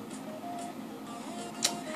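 A printer runs while printing out weather information, giving a steady, fairly quiet mechanical whir with a faint click near the end and no voices.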